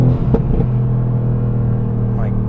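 A car engine rumbles low and steady up close, with a brief sharp revving burst near the start before settling into a sustained drone.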